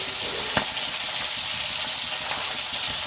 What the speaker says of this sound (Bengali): মাছটা ততক্ষণ ভাজা হোক